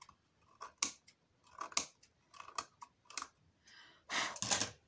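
Scissors snip paper for an advent calendar craft, in several short crisp cuts with pauses between them and a longer burst of cutting at the end, close and quiet.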